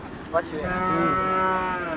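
A single long, loud cow moo rising and holding, with faint background chatter from a busy cattle market.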